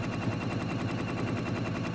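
Juki DX 3000 sewing machine stitching during free motion quilting, a fast steady mechanical rattle of needle strokes, close and continuous with an even beat.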